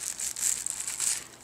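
Scissors cutting through plastic bags to trim their ends, a close, continuous crisp crinkling and snipping with no voice over it.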